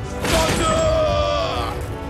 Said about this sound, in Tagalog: Ito ay isang misteryosong kambing na makikita sa bulubundukin sa gitnang Asya.